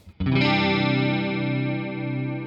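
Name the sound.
guitar chorus pedal effect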